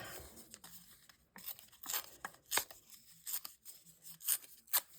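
Scraps of paper torn by hand for a craft background, a run of sharp ripping bursts of varying length, close and fairly quiet, with short pauses between tears and no talking.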